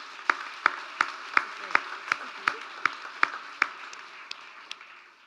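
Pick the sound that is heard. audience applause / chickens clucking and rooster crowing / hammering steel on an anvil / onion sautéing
audience applause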